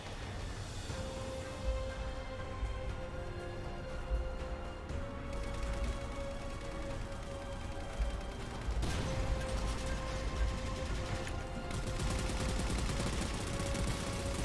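Gunfire from shotguns in the video game Halo Spartan Ops: irregular, fairly faint shots and mechanical clatter over a steady in-game hum, with no talking.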